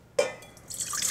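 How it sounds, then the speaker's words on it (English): Warm water poured for pretzel dough starts with a sudden splash, then a short, bright trickle that grows into a steady fill, close and fairly loud, with no voices. "Okay, so first I'm going to pour in the warm water."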